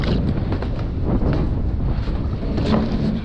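Strong wind buffets a fishing boat on open water in bad weather, a loud, continuous rushing roar with gusty rumble and no voices.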